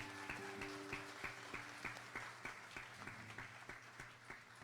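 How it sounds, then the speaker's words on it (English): Rhythmic clapping in a steady beat, several hands together, over a sustained musical tone in the background. "so we're clapping, right?"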